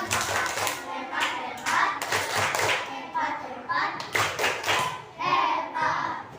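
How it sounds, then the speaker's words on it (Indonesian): Schoolchildren in a fourth-grade classroom clap for a classmate, a burst of many small hands in uneven rhythm with thumps, close by, with children's voices mixed in throughout. "Beri tepuk hebat."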